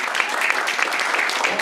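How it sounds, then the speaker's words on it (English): A live audience claps to welcome a comedian on stage, with brisk, fairly close applause and what sounds like a voice speaking underneath. "Big round of applause"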